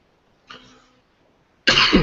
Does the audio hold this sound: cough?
yes